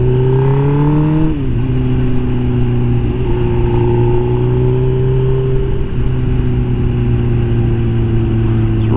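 A 2005 Suzuki GSX-R1000 K5 motorcycle pulls hard through the gears on a paved road, a loud, close engine note climbing, dropping at a shift, then rising again steadily with no talk.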